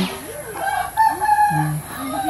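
Chickens cluck and a rooster crows nearby in short, uneven calls, fairly loud and close, with little else around them.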